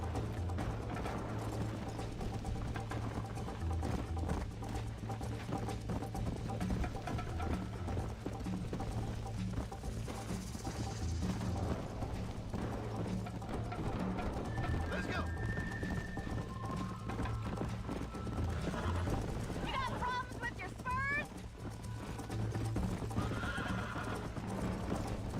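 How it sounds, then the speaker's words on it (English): A horse in Red Dead Redemption gallops hard with continuous rapid hoofbeats and neighs loudly, while scattered ambient game sounds run through the background. "O cavalo correrá mais rápido quando tiver estradas e trilhas."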